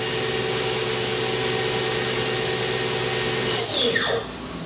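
A 2005 Haas VF-3B CNC mill spindle whirs loud and steady with a high whine, then its pitch sweeps sharply during a gear change and the sound drops off near the end.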